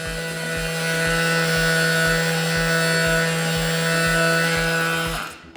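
A Parkside Performance 12V cordless multi-tool (PPMFWA 12) runs close and loud with a steady high buzzing whine and a rapid oscillating pulse, holding constant for about five seconds before winding down and stopping.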